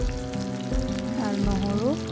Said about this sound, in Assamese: আৰু এতিয়া মোৰ তেলখিনি গৰম হ'ল, ইয়াতে দিছোঁ কাটি থোৱা পিঁয়াজখিনি